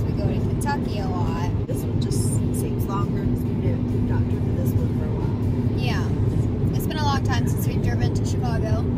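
A steady low road rumble fills the inside of a car cruising on a highway toward Chicago, constant throughout, while people talk over it.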